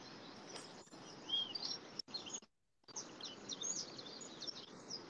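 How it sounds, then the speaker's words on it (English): An Andean solitaire in a tropical forest gives a squeaky, creaking call like a rusty swing, faint and somewhat distant amid steady background bird chirps and insect noise, with no talking. "I'm not sure if you can listen to the Andean solitaire in the background as well."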